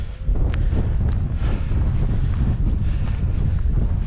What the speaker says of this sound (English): because it is quite gusty up here at the minute